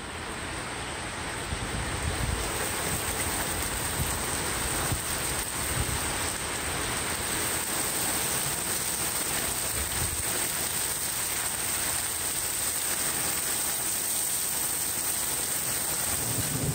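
Thunderstorm with steady rain and low rolling thunder, a constant even downpour hiss holding throughout with occasional deeper rumbles, no talking.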